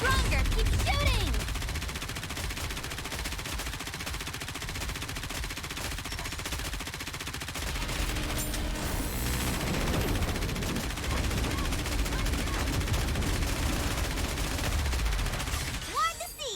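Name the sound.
gunfire and bombardment in Nikke: Goddess of Victory video game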